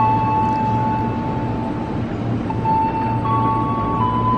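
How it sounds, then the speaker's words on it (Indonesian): Train pulled by a reversed long-hood locomotive arriving at Cikarang station from Purwakarta, a loud steady low rumble with faint tonal whines from the platform and no pauses. "Itu dia, keretanya baru datang"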